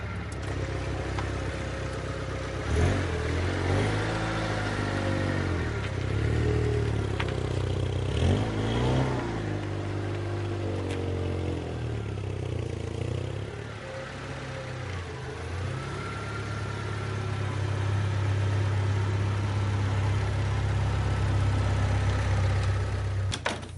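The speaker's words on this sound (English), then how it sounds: "Nu moet ik de auto, nu moet ik achteruit rijden." A car engine idles and revs near at hand while the car backs into a very small garage, its tone rising and falling in uneven bursts before settling into a steadier drone.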